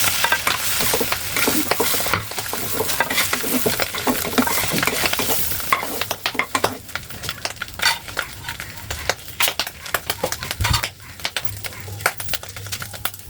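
Eggs fry in oil in a pan while being stirred for a traditional aloo ghati recipe, a steady sizzle broken by repeated scrapes and clinks of a utensil against the pan.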